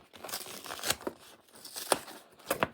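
Plastic packaging around a Lego Ninjago Dragons Rising 71814 Tournament Temple City instruction booklet is torn open by hand, giving a few sharp crinkling rips and rustles spread over a couple of seconds, fairly quiet and close.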